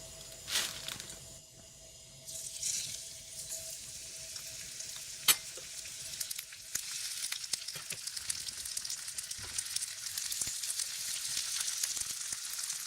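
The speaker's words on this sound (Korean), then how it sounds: "이제 달군 팬에 기름을 두르고" Napa cabbage fries in oil in a preheated pan, a continuous close sizzle that builds after a quieter start, with a sharp clatter near the middle and scattered spattering crackles.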